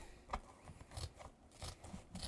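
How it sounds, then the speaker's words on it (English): Scissors snipping through deco mesh during a craft project, giving a few soft, close crunching cuts and rustles, quiet and without talk. "Then take the scissors again, and I'll slide it or cut this side of it."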